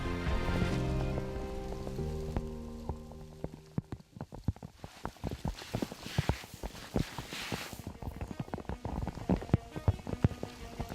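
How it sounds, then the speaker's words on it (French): Hail and heavy rain pound the road during a cycling race on Mont Ventoux, a dense crackling patter of countless hard impacts, steady and loud throughout with sharper close hits standing out. "Ce sont d'abord des trompes d'eau, puis de la grêle qui s'abattent sur la course"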